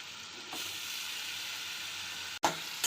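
Ground spice paste sautés in a hot pan, giving a continuous close sizzle with a brief scrape and clatter of a spoon toward the end.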